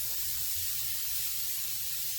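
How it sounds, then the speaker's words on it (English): Steady sizzling hiss of chicken tenders cooking on a hot grill, fairly quiet and continuous, with no talking. "Do you hear that sizzle?"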